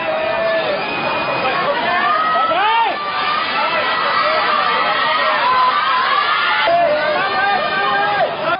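Fans screaming at a Dior event in Hong Kong, a dense crowd of high-pitched shrieks and excited shouting rising and falling continuously, with overlapping voices and chatter in the throng.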